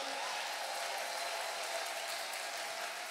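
A church congregation applauding to acclaim God, a sustained and even wash of clapping from many hands, steady and fairly distant, with no single voice standing out.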